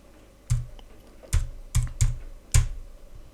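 A few separate, fairly loud keystrokes on a computer keyboard as a Google search is typed. Each press gives a clear click with a soft thud, spaced irregularly.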